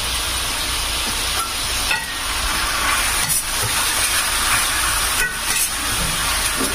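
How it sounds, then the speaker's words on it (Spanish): A sofrito of onion, garlic, pepper and parsley frying in a pan, heard as a constant bright hissing sizzle with a few faint stirring clicks, steady and close with no voices. "Y vamos a hacer un sofrito."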